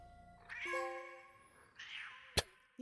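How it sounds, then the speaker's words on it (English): A cat meows in the Dark Nights with Poe and Munro game: two drawn-out, wavering meows, faint and close, then a sharp clang near the end, with no talk. "I'm merely demonstrating that this shows the cat's meow."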